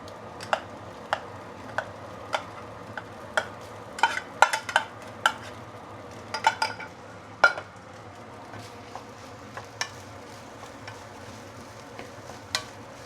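Rice being stir-fried with luncheon meat in a wok: a soft steady sizzle under scattered sharp scraping clicks of a spatula against the pan, close and fairly quiet.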